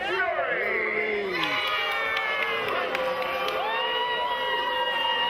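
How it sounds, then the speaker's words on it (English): A wrestling crowd at a Wrestling on Fire heavyweight title match in New Hampshire reacts to the reigning champion with boos, whistles and shouts, a dense, steady roar that fills the room throughout. "You can hear this crowd showing the Wrestling on Fire champion what they think of him"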